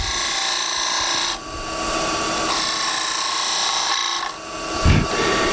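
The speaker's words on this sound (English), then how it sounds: "last but not least would be using the skew again. We'll make a bit of a V cut here" A skew chisel makes a V cut in spinning wood on a lathe, giving a steady, loud hissing scrape with a few brief dips in intensity as the tool shifts, and no talking.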